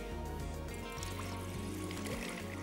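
Water streams into a cooking pot for a salted rice boil, a steady close trickle and pour over a faint background hum, with no talking.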